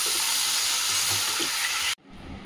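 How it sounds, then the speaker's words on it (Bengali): Taro stolons cooking with dried fish in a pan give a loud, steady frying sizzle that carries on unbroken, then cuts off sharply near the end before a quieter hiss returns. "কচুলতিটা রান্না করছি শুটকি মাছ দিয়ে"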